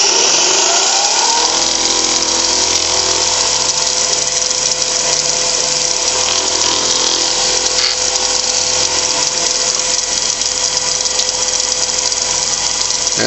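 A wood lathe spins a workpiece while a Liberon carnauba wax stick is pressed against it, giving a loud, steady mechanical whir with a constant hum and light rattling that runs unbroken throughout.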